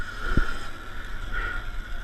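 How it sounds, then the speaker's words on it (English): A Sur Ron Light Bee electric dirt bike with a 64T sprocket and X160 battery, run at full throttle up a steep trail hill, giving a steady electric motor whine with rushing wind and one brief knock. "So I'm full throttling it right now, 64T sprocket."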